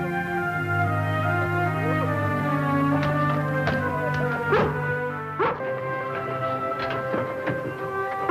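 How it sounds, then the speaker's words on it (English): A dog barks, yips and whimpers in an agitated, irregular run of sharp close barks, with a steady tone sounding beneath it. "And why is that dog carrying on so?"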